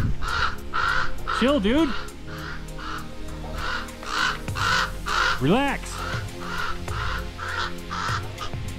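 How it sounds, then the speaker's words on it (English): A bird calls near a desert cave in the Owyhee Canyonlands, giving a steady series of loud, harsh caws in a repeating rhythm, while someone speaks briefly and gives a couple of vocal sounds. "You listen to that bird all night."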